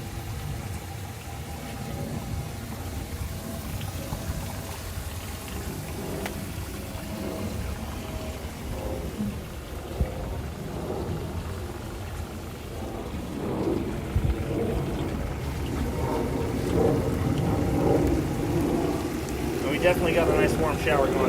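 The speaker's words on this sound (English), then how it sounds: "Definitely got a nice warm shower going now." Warm shower spraying from a van's Seaflow pump setup outdoors, a steady close hiss of falling water like heavy rain that swells louder toward the end, with a voice faintly audible beneath the spray.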